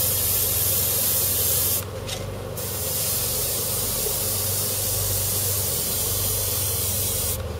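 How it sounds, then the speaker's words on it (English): A spray booth runs lightly while a miniature sniper-team scene is airbrushed, giving a close, constant hiss that dips briefly early on and then carries on steadily. "As you can hear, I have the spray booth going lightly"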